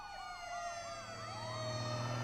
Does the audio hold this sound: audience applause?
no